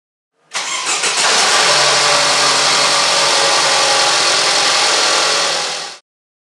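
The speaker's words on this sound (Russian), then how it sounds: "Заводим двигатель." A Mercedes engine cranks briefly, catches and settles into a steady, loud idle that runs unchanged for several seconds, then cuts off abruptly.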